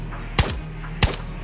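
Two loud, close gunshots in the video game Ghosts of Tabor, spaced about half a second apart, each a sharp crack with a short decaying tail over quiet background hum.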